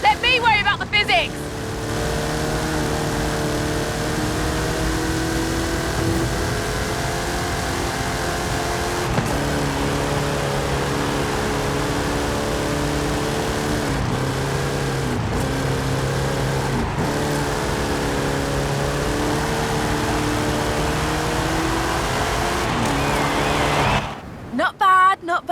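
Car engine in Forza Horizon 5 held at high revs, a continuous loud drone with gear-shift dips, accompanied by a voice talking over it.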